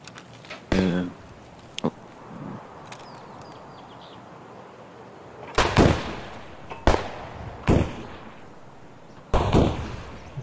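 Gunshots in Escape from Tarkov, several sharp, separate cracks with echoing tails spaced a second or more apart, loud against a quiet outdoor background.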